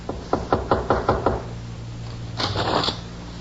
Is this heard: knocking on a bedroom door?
yes